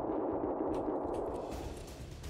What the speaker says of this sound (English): A lot of shooting going on